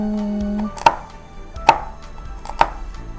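Three sharp knife chops land on walnuts at a cutting board, spaced about a second apart, each a crisp close thwack against a quiet kitchen background with a faint steady hum early on.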